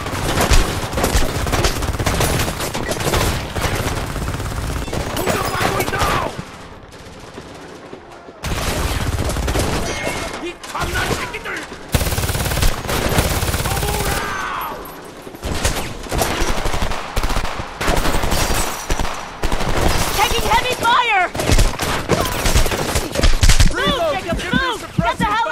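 Gunfire and grenade blasts in the video game Homefront on PS3, dense bursts of rifle and machine-gun fire and loud explosions with short gaps, while soldier voices shout over the battle.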